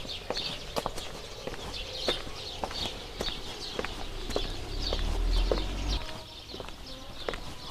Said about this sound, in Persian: صدا پرنده رو میشنوی؟